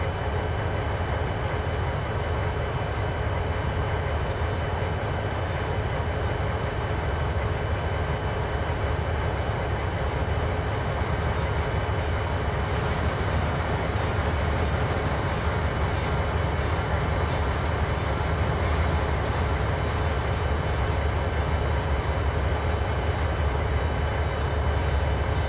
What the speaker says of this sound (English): I have to wait for an Amtrak train to pass by.